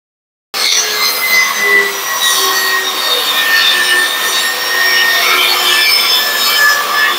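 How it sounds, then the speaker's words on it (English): A saw rips a wooden board lengthwise down the middle while building a DIY DJ podium, a steady, continuous rasping cut that runs loud and close for about seven seconds without pause. "So let's just rip it down the middle."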